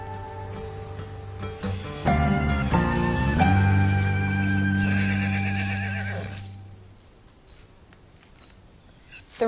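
A blind horse lets out a loud, close whinny lasting several seconds, its drawn-out tone shaking and falling away, followed by quieter background sound and faint hoof knocks.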